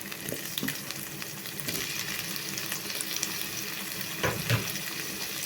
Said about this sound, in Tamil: தக்காளி பழத்தை நல்லா வணக்கி எடுத்துக்குவோம்